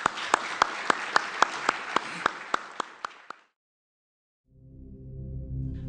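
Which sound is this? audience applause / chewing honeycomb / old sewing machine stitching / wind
audience applause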